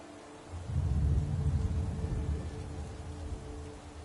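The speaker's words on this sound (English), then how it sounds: "Oh, great, now it's raining." Rain starts in a PS4 football video game, heard as a low, steady rumbling wash of rain with a soft hiss that continues throughout at moderate loudness.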